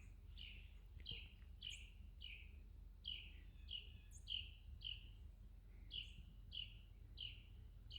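A bird calls outdoors in a steady series of short, high, repeated chirps, a couple per second, heard faintly over a low background rumble with no one talking.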